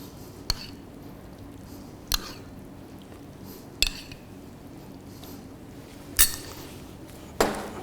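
A spoon stirring chicken stroganoff with sour cream and cream in a pan: soft wet squishing under quiet background hiss, broken by five sharp metallic clinks of utensil on pan spaced a second or two apart.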